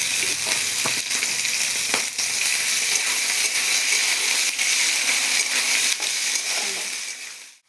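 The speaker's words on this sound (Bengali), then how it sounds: "চিকেনগুলো দিয়ে দেবো চিকেনগুলোকে আমি একটুখানি ভেজে নেবো" Chicken pieces fry in a pan of reddened spice masala for chicken ghugni, giving off a loud, steady sizzle and hiss throughout that fades out at the very end.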